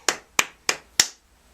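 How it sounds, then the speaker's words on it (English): Four sharp hand claps ring out in a short, evenly spaced burst, close and clear with no voices, closing out a chat vlog. "Let's have a round of applause for Neil and Harmony finally hooking up."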